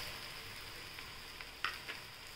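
Puffed rice and vegetables frying in a pan on a home stove for a Maharashtrian breakfast, giving a steady soft sizzle with two brief louder scrapes of stirring near the end, no talk.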